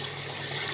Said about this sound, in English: So now, simple enough, just add all the brine.